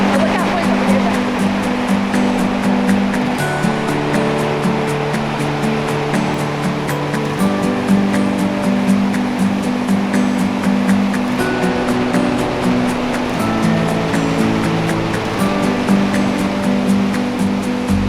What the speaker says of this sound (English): We have definitely found the upper falls. So we can hear it